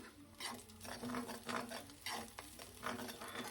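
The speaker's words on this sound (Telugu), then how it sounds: "ఉల్లిపాయ ముక్కలు అలాగే పచ్చిమిర్చి అయితే వేగుతున్నాయి" Onion pieces and green chillies fry in a pan, a soft close sizzle with rhythmic scraping strokes of a spoon stirring every half second or so, quiet overall.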